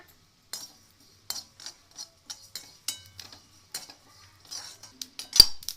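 Short metallic clinks and scrapes of a spoon stirring sesame seeds roasting in a pan, in irregular bursts with quiet gaps, ending in a louder clatter.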